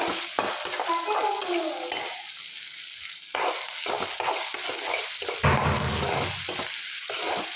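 Potato kurma fries in a pan under repeated stirring, with scraping strokes rising and falling over a continuous hissing sizzle and brief quieter gaps between the passes.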